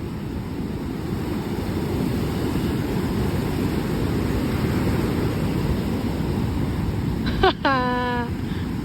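Broadband roar of ocean surf at a beach in Baler, Philippines, continuous and loud, with wind-like rush and a brief shout of a voice near the end.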